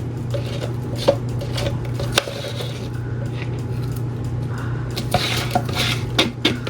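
Leftover paint is scraped out of a cup on a dirty pour tray with repeated close scrapes and sharp clinks over a low steady hum.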